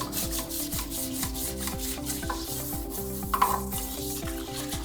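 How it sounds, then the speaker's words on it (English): A brush scrubs the inside of a toilet bowl in a bathroom, making rapid, rhythmic swishing and scraping strokes close up, continuous and without speech. "Some areas may need scrubbing a little harder than others. Clean underneath the rim, down into the bowl."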